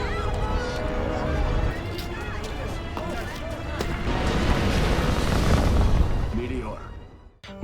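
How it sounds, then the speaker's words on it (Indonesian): A meteor bursting in the sky in the Terra Nova film, heard as a sustained, loud rumbling roar with low booming swells that builds toward the end and then abruptly cuts off, with a narrator's voice running over it. "Meteor itu meledak dan menghasilkan gelombang elektromagnetik"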